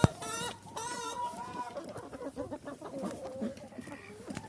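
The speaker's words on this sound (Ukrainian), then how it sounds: "Ось півні рабей породисті, курочки ці теж породисті рабі." Purebred roosters and hens cluck steadily and close by on a farm, with several overlapping calls and a few louder, drawn-out squawks near the start.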